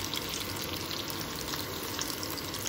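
Tofu fries in a pan with a steady, soft sizzle and crackle that holds evenly throughout, fairly quiet and with no talk.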